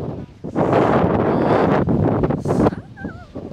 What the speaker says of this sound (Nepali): हावा पनि एकदमै हावा हुँदैछ.